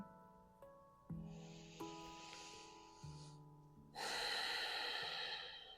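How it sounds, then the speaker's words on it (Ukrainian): Slow, soft breaths of a relaxing pranayama breathing practice drawn in and let out over quiet sustained musical tones, each breath a gentle airy hiss, one longer exhale near the end. "ще декілька невимушених циклів дихання"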